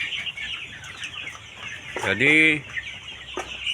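Chickens in a hot coop at 31 °C cluck, with one prominent call rising above a steady background hum, while someone speaks briefly.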